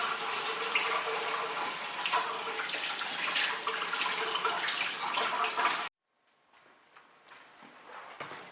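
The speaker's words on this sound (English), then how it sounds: "we just want to rinse it off real quickly" Cold running water rinses a brined turkey before smoking, a steady broadband splashing hiss that stops abruptly, followed by quieter drips and small wet handling sounds.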